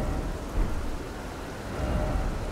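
A thunder and lightning storm in the Elden Ring video game, a loud continuous rumble of thunder mixed with heavy rain that swells near the end.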